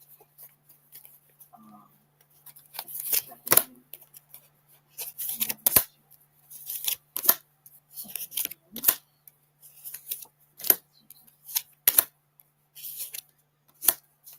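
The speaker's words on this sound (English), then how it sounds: "One more shuffle." A deck of cards is shuffled repeatedly at close range, sharp riffling bursts separated by short pauses, with a quiet hum underneath.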